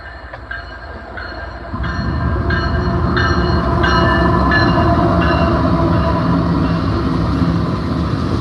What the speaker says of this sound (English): Another loaded coal train going east.